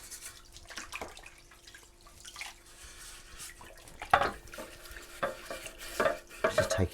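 Dishes are washed by hand in hot water at a sink. Soft sloshing and stirring are broken by a few sharper clinks and knocks of crockery, close and quiet, with no voices.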